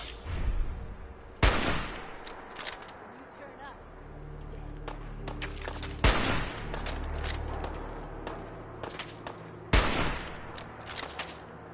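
Hunting rifle shots in Fallout 4 ring out as three sharp, loud cracks spaced several seconds apart, over a low game rumble and ambient noise.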